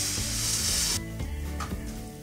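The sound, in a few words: ground beef sizzling and stirred in a pan on coals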